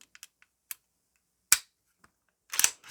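Sharp metallic clicks from a WS MCR rifle as its safety and trigger reset are checked: a few light ticks, then two louder snaps about a second apart, close up and with no voices.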